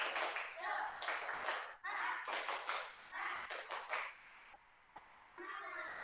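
A class of schoolchildren performs a rhythmic group clapping chant, producing bursts of patterned claps mixed with chanting voices, then a pause and one more short burst.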